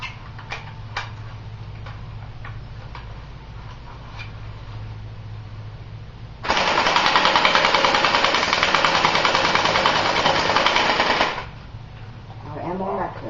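An airsoft AK-47 rifle with a standard collapsible stock fires a sustained full-auto burst during target practice at a styrofoam plate, a loud continuous rattle lasting about five seconds, with quieter handling sounds before and after.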